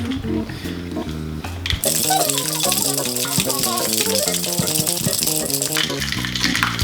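A cocktail shaker holding an Earl Grey martini with egg rattles hard in steady rhythmic shakes, close and loud, ice clattering inside after a brief quieter lead-in.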